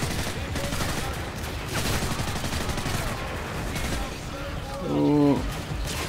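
In Call of Duty: Modern Warfare 3, crossfire gunfire crackles in continuous overlapping volleys, loud and near, while someone talks over it.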